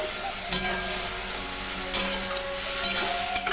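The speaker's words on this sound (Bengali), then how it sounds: "এবার মশলাটাকে ভালো করে কষিয়ে নিচ্ছি" Spice paste stirred and fried in a pan with hot water added, a steady sizzle beneath a few sharp scraping strokes of a spoon, close up and with no voices.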